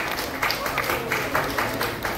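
An audience at an awards ceremony claps for an honoree, a steady patter of applause heard from a short distance that runs briefly with a voice speaking over it.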